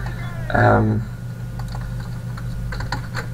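Someone types on a computer keyboard close by, a steady run of light key clicks heard under and after a short spoken remark.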